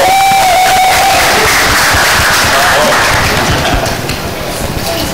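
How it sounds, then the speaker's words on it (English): A large crowd at a film trailer launch event applauds and cheers loudly and continuously, a dense wash of clapping with shouts rising above it. "can we have a huge round of applause for the entire cast and crew"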